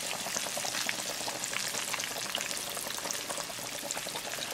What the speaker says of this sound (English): So now we're going to deep fry